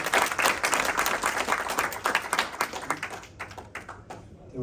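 Audience applause at a startup pitch competition event in Warsaw, a dense wash of clapping that fills the room and gradually thins out toward the end.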